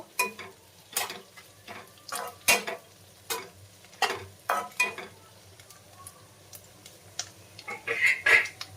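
Eggplant slices fry in oil with a steady low sizzle, broken by repeated sharp clicks and scrapes of a utensil against the pan, close and moderately loud.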